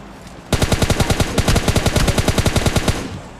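Automatic gunfire from a PUBG Mobile Lite match, with an MK14 rifle picked up nearby: a sudden burst of rapid, evenly spaced shots rattles on for about three seconds, loud and close, with no talking over it.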